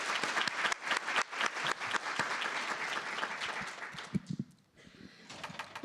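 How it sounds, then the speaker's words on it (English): A room of attendees at a 2023 legislative conference breaks into brisk applause, loud and sustained for about four seconds before thinning into a few scattered claps and quiet. "Please join me in another round of applause for Arlene Rogo,"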